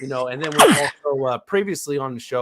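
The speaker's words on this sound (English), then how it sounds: "So I don't know if that was a sneeze, but bless you." A sneeze bursts out partway through, a sharp loud noisy blast that cuts across a man's speech, which continues before and after it.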